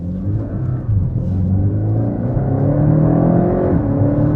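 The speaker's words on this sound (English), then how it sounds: "the engine does sound very raw" A Porsche Cayman GTS sports car engine revs up loudly and close, its raw, throaty pitch rising steadily with a deep rumble underneath.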